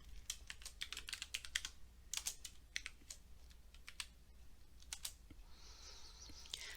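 Quiet computer keyboard typing: irregular bursts of soft key clicks with brief pauses, close by and alone, fading out near the end.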